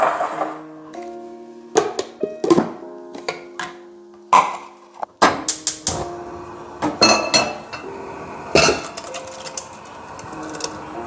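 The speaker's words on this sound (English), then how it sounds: "We're just going to loosely chop these up" Knife roughly chopping vegetables on a board for a Vietnamese bò kho beef stew marinade, heard as irregular close, sharp knocks and clinks in uneven bursts, with no talk.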